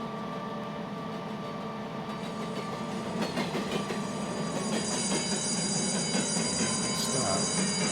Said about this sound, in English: Got train coming.